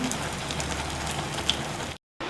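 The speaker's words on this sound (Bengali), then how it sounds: "এই দেখুন আরেক সাইড আমি ভেজে নিচ্ছি ভালো করে" Malpua batter fries in hot oil, a steady close sizzle and crackle that cuts out briefly near the end.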